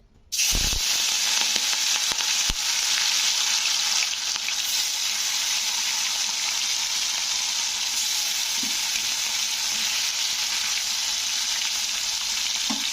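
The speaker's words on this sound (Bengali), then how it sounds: "ওই তেলে কিন্তু আমি মাছগুলো ভেজে নেব" Steady loud sizzling of katla fish pieces frying in hot oil, a continuous close crackling hiss with a few faint clinks.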